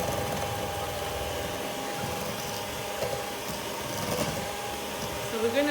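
A handheld electric mixer whirs steadily through banana bread batter as the sugar dissolves, a continuous motor hum with faint bowl scraping and knocks throughout.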